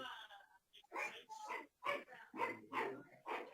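A small dog yips and barks repeatedly in short bursts nearby, mixed in with people talking.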